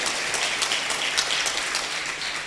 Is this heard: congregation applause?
yes